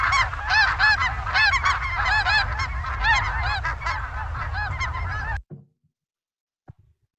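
Snow goose or Ross's goose honking in a dense, continuous chorus of overlapping calls, loud and steady for about five seconds before stopping abruptly, followed by a couple of faint brief sounds.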